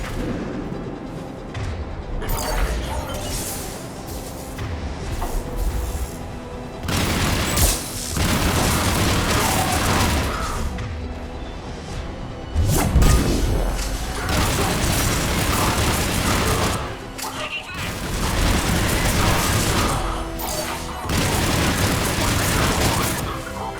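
In the video game Mass Effect 3, a checkpoint comes under fire, with repeated loud bursts of gunfire and booming explosions over a constant battle din, swelling and easing in waves.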